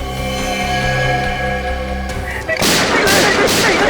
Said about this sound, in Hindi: बस 4 गोलियां दाएं पैर में और 4 गोलियां बाएं पैर में ठोक दो